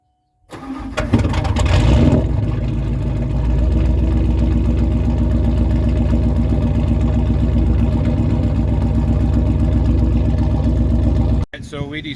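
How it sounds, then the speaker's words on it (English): A car engine cold starts with a short cranking burst, catches with a loud rev, then settles into a steady, rough idle that continues for several seconds before cutting off. "we're going to do a cold start on it real quick"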